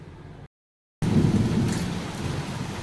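A hailstorm with thunder, heavy hail and rain pounding down loudly with a deep rumble, after a brief silent cut, with no talk.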